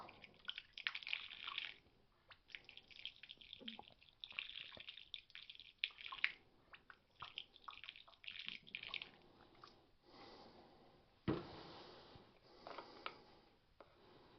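Liquid fuel is poured into a JOBO D4 twin burner stove, trickling and dripping close by in uneven bursts with short pauses, and no one speaks.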